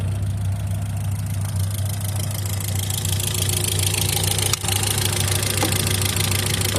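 A car engine idles steadily after a jump start, with loud, noisy valve lifters ticking from oil starvation. The sound is close, continuous and has no talk over it.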